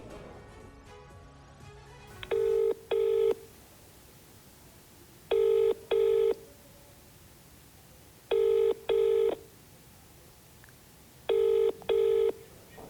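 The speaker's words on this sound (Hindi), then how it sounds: "7वें विधायक को भी हमने फोन लगाया लेकिन फोन नहीं उठाया गया" A telephone call to a Maharashtra legislator goes unanswered: after brief dialing, four pairs of ringback tones repeat at steady intervals, clear and alone with no one picking up.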